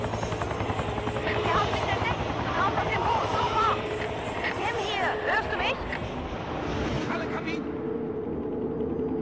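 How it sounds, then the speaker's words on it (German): A helicopter in the video game XIII thrums continuously with a steady rotor drone and wind, moderately loud, while someone talks over it and the sound cuts off abruptly near the end. "Der Helikopter."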